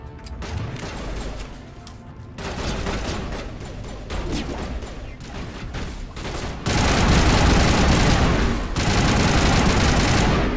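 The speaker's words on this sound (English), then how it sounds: "I'm supposed to see what the shotguns are doing." Shotguns fire in rapid bursts in an action game, loud overlapping blasts layered with mechanical clatter and booms, growing denser and heavier toward the end, with no talking.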